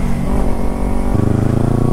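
A Kawasaki Ninja 300 motorcycle engine on a ride to Malshej Ghat, loud and close, droning steadily and then dropping to a lower, throbbing pitch midway as the rev changes, with no talking.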